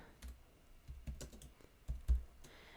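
Typing on a computer keyboard while entering an email subject line, a handful of soft, irregular key clicks close by in a quiet room with no voices.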